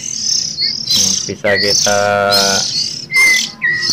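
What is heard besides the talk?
Oriental magpie-robin (kacer) chick begging calls during hand feeding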